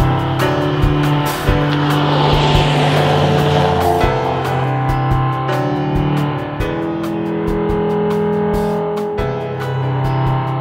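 A camera drone flies outdoors among mountains, giving a steady, loud droning whine that holds throughout, with scattered sharp clicks and ticks on top.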